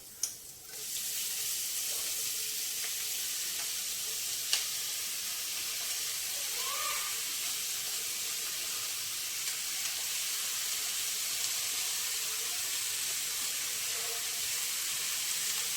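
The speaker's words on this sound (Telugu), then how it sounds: "ఇప్పుడు మనం తోటకూర వేసేసుకుందాం." Amaranth leaves drop into a pan of frying onions with a sharp initial crackle, settling into a steady, fairly quiet hiss of steam and sizzling that continues throughout.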